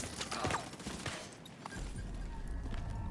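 Rapid bursts of enemy gunfire in a looter-shooter game, loud and close, clattering in quick volleys with a brief lull in the middle before resuming.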